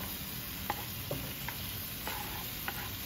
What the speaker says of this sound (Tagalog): pag medyo na lumambot-lambot na at nadurog na yung kamatis, pwede na ilagay yung sayote.